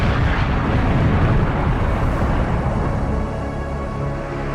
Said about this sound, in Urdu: پھر ایک دھماکہ ہوا۔